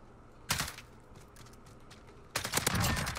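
Automatic weapon fire in the Call of Duty Modern Warfare video game on PC, with a short rattling burst, a lull of faint distant shots, then a longer, denser burst close up.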